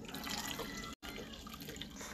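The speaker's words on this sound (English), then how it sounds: "Now add your hot water." Hot water is poured into a cup for ginger tea, a steady splashing stream with one brief gap partway through, close and fairly quiet.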